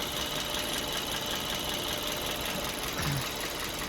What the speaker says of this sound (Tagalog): Papangit na ng andar, lagitik na siya.